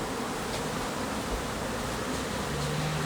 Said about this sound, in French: Vous voyez ces abeilles là, hop, j'ai ce coup devant la ruche